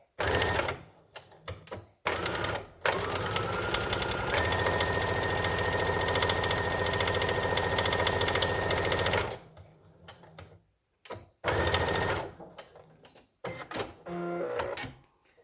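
Sewing machine stitching fabric for a protective mask, running in a long steady whirring burst with shorter back-and-forth runs before and after, close and loud with brief pauses between.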